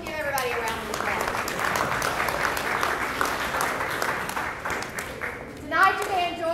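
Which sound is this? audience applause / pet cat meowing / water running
audience applause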